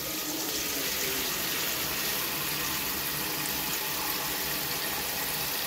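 Water runs steadily from a kitchen tap into a soup bowl, filling it to make seaweed soup. The hiss and splash are close and constant, with no talking.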